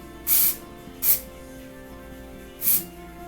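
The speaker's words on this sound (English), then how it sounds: "Just take little sections and spray the texturizing spray in." Three short bursts of texturizing spray from an aerosol can misted into sectioned hair, each a soft close hiss about a quarter second long, with quiet pauses between.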